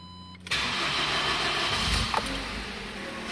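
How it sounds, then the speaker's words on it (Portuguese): A Ford EcoSport with an unstable idle starts up: a brief crank, then the engine catches and settles into a steady, close idle with a small bump partway through. "Aí, ó, liguei o carro."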